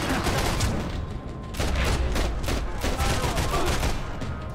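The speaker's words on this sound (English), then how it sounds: "now I've got the assault rifle out" Sustained assault rifle fire in Max Payne 3, dense rapid bursts overlapping into a continuous loud fusillade with a brief lull near the middle, with faint voices underneath.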